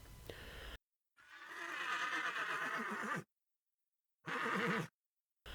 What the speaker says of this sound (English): then it neighed fiercely and reared up on its hind legs